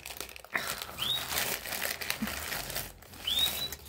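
A plastic-wrapped parcel from a Temu order is opened with close, continuous crinkling and rustling of plastic film, punctuated by a few brief sharp tearing squeaks.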